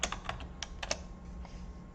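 Someone types on a computer keyboard in a quiet room, a quick run of crisp key taps close by that thins out to scattered light presses.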